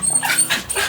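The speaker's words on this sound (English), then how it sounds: "Here are the truffle dogs." A young trained truffle-hunting dog gives a few quick, high yips and short barks nearby, sharp and close.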